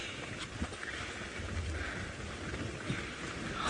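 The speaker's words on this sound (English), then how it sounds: "We're going to shelter from the storm" A thunderstorm with steady rain during a sunset safari drive, heard as a continuous broadband wash of rain with low rumbling beneath, fairly loud and even throughout, no talking.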